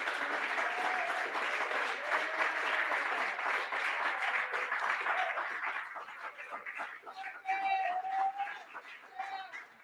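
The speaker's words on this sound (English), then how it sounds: "So give them a round of applause." A crowd claps steadily, then the applause thins out and fades, with faint birdsong and a few voices audible underneath.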